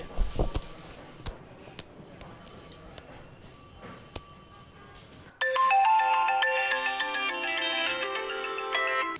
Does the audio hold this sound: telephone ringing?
yes